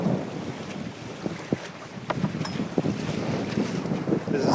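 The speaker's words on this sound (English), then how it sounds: "This is sailing with two reefs on the North Channel. Small wind warning." A sailboat reefed twice in strong wind on the North Channel, with constant wind buffeting the microphone, water rushing and waves slapping against the hull.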